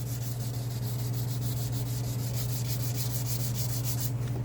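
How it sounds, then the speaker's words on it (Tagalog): A car headlight lens being wet-sanded by hand with 320-grit sandpaper and soapy water gives a steady, continuous rubbing scrape with a rhythmic back-and-forth texture, close and even throughout with no talking. "Lihain mo lang siya"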